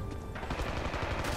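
Rapid automatic gunfire from the Rising Storm video game, a dense clatter of overlapping shots that swells after a brief quieter start and keeps up steadily through the short clip.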